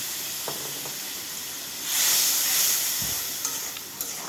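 Water poured into a pan of frying spices hisses and sizzles into a surge of steam, a burst that swells and then fades to a gentle crackle, with a few clinks of a stirring spoon, at close range.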